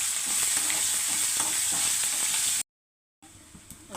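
Ginger and three chopped green chillies frying in hot oil while being stirred, a steady close sizzle with scraping, cutting to silence briefly before a quieter sizzle resumes.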